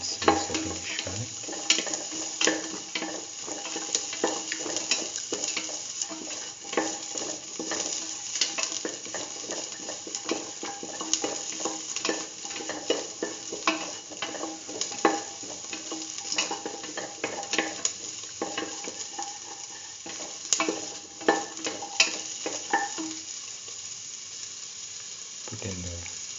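Onions and shallots fry in a pan with salt, giving a steady, close sizzle with stirring and scraping throughout, plus occasional clinks of cookware.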